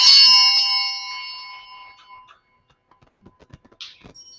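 A set of brass altar bells rung once during Mass, a loud, bright close jangle that decays over about two seconds, followed by quiet handling clicks and a faint high chime.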